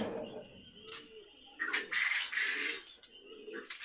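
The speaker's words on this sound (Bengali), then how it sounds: "আমার পাখিগুলো আলহামদুলিল্লাহ সবাই সুস্থ আছে, ভালো আছে" Pet birds kept on a rooftop give several short, scattered calls and chirps, some bright and piercing, others softer, with quiet gaps between them.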